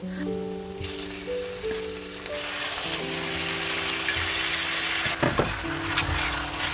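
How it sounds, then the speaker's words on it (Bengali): Chicken fries with onion in a kadai, giving a steady, close sizzle with an occasional clatter of stirring partway through. "এবার চিকেনটাকে একটুখানি ভালো করে ভাজা ভাজা করতে হবে, যাতে করে চিকেনের কালারটা একটু চেঞ্জ হয়ে যায়।"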